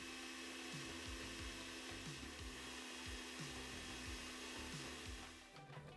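A stand mixer whisks eggs, sugar and lime zest at top speed, giving a steady motor whir with rhythmic rubbing beats from the whisk that fade out at the end.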